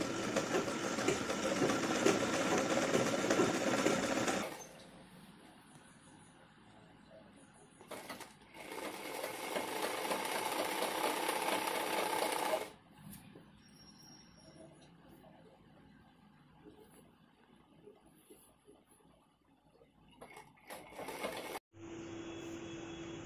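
A sewing machine stitching a fall onto a saree, running in loud steady whirring runs of several seconds, broken by quiet pauses and shorter bursts, close-up with no talk.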